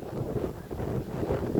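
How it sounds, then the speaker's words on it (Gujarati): Strong stormy wind with lightning, roaring low and steady in a continuous rumble that presses close against the microphone. "વાવાઝોડું પવનની ફૂંકાવાનું ચાલુ થયું વીજળી સાથે"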